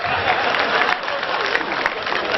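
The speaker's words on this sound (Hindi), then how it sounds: "महिलाओं ने तालियां बजाई है।" A poetry recital audience of women bursts into steady, dense clapping, loud and close, a continuous wash of applause with no voices over it.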